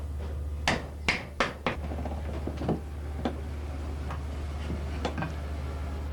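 Chisels paring out the blade slot in a wooden hand plane body: a run of sharp knocks and taps, several in quick succession and then sparser ones, close by over a steady low hum.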